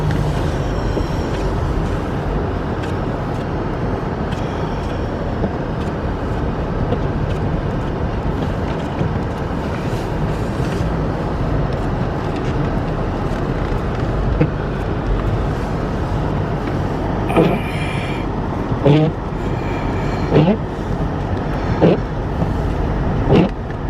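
A car drives to work through a heavy snowstorm during a blizzard, giving a steady, continuous road and engine rumble from inside the cabin that stays level throughout, with a few faint clicks and rattles near the end and no voices.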